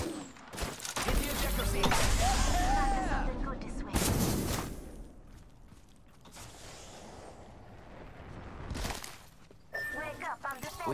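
Video game gunfire crackles in bursts through a busy firefight, with several sharp shots, mechanical clatter and heavy impacts, while players talk over much of the action.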